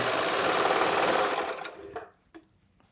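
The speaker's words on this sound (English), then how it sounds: "let's just start stitching that through now" A Baby Lock Enspire EX overlock sewing machine stitching fabric, running as a loud, steady high-speed whir and clatter that winds down and stops, leaving a couple of faint clicks.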